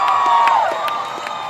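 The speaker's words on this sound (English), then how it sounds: "A multi-racial, anti-racist crowd yelling our lungs out on the streets of Melbourne" A multi-racial anti-racist crowd yells together at a street protest in Melbourne, a loud sustained roar of many voices with whoops and cheers rising over a continuous wash of noise.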